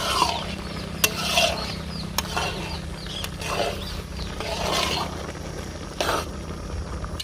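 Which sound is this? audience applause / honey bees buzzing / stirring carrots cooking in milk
stirring carrots cooking in milk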